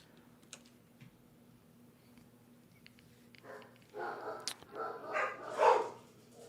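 Dogs barking indoors during a handheld console unboxing, a quiet stretch of faint clicks giving way to a run of several louder barks near the end.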